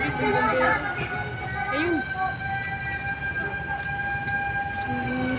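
A fire truck siren wails, rising and falling in the distance, at a building fire in Angeles City, Philippines, amid a noisy crowd and low rumble, with a brief spoken word.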